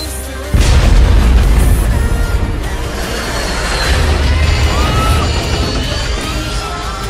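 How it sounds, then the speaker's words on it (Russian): A loud explosion erupts suddenly in a radio drama prequel to Hideo Kojima's Snatcher, a heavy boom followed by a long rumbling roar that lingers for several seconds with no voices over it. "Этот взрыв!"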